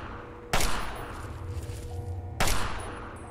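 Two loud gunshot blasts, about two seconds apart, ring out in the video game Fallout 3, each followed by a decaying echo over low background game ambience.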